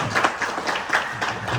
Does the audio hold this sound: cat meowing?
no